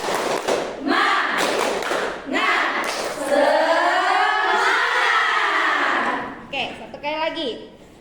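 A classroom group of university students performs the rhythmic tepuk semangat clapping routine, bursts of patterned claps mixed with chanted voices and a teacher speaking between them.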